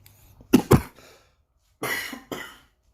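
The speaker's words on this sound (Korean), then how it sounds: "기침이 났습니다." Two quick coughs close to the microphone, then a pause, followed by two more harsher coughs, with no talking.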